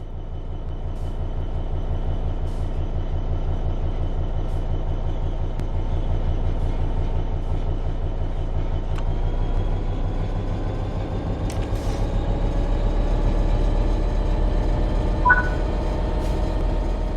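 A train in Train Sim World 3 pulls away under throttle, a steady low rumble with a traction-motor hum that rises in pitch as it gathers speed. One brief tone chimes near the end, and no one speaks.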